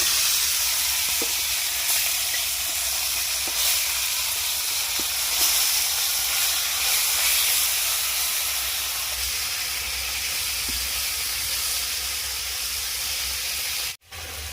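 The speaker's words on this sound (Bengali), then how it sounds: "এবারে আমরা মাছ দিয়ে দিচ্ছি" Fish, a singhi catfish, fries in oil in a kadai over a lit stove, a steady, hissing sizzle running throughout with faint occasional ticks, briefly cutting out near the end.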